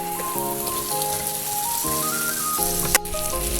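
An egg fries in a pan while rice biryani is cooked, giving a steady, close crackling sizzle like light rain. It runs the whole time beneath sustained tonal background music, with a single sharp clack near the end.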